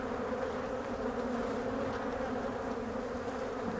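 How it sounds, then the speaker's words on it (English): Honeybees swarm densely around a beekeeper working hives during a split, a loud unbroken buzzing hum that fills the whole stretch, close and steady, with no voices. "These bees are literally pounding me."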